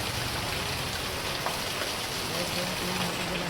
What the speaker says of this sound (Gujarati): વરસાદ જ એટલો બધો છે